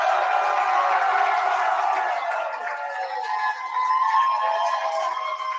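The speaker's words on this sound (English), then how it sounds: "It just warms my heart to see all these people clapping for Vanderbilt football" A stadium crowd cheers and claps steadily for Vanderbilt football as the final knee is taken against Alabama, a dense wash of roaring voices and applause that dips slightly midway, then swells again.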